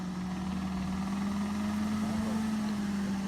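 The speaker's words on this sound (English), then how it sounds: "These guys are talking about a knock in my engine in the background." A Jeep engine with a rod bearing knock runs on an off-road trail obstacle, giving a loud, steady droning hum through the whole stretch.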